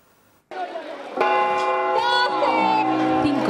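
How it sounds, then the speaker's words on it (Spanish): Church bells ring out in rich, sustained chimes over an outdoor crowd murmur at a New Year's Eve event in Marbella, loud and continuous after a brief quiet start. "Así fueron las mini campanadas de este año."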